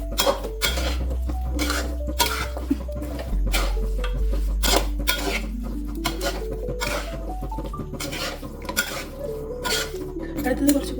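Metal spoon scraping and clinking against a pot while stirring chicken curry with tomato, repeated irregular strokes close by, with a low background hum.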